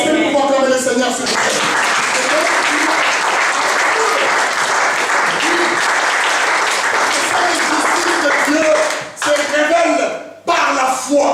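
A church congregation breaks into sustained loud applause and cheering that fills about nine seconds, then fades and stops briefly before a final burst; voices mingle within the clapping.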